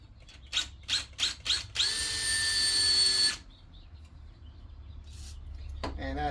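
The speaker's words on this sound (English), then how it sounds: "I'll just leave that one in there for a moment and drill this other one first." Power drill boring into a steel trailer hitch step, heard as four short close bursts followed by a steady high-pitched whine for about a second and a half before stopping.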